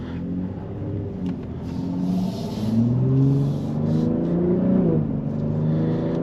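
A 2022 Ford F-150 Raptor pickup engine revs in sport mode and climbs in pitch while driving, a steady close rumble rising and falling with acceleration, no talking.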